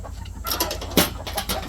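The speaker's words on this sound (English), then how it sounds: "we're going to let chickens out" Several chickens clucking and squawking close by in short, irregular bursts over a low background rumble.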